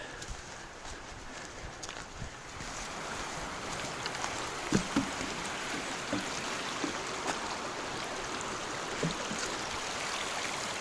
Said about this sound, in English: We got a waterfall right here, a little cascade.